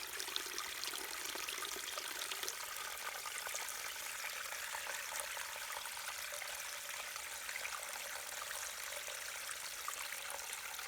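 Water trickles steadily down a small homemade waterfall, a soft, continuous splashing that stays faint and even throughout.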